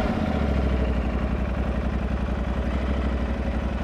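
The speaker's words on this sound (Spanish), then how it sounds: "No estaba en neutro, vamos a arrancarla." An Aprilia Tuareg 660 motorcycle engine idles steadily after starting, a close, even, throbbing rumble with a regular pulse and no speech.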